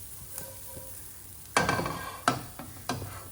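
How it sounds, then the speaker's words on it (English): Quiet frying of chickpeas in a pan with a faint sizzle, broken by a few sharp pops from the chickpeas and scraping stirs near the end. "you can see some of the chickpeas are already popping a little bit"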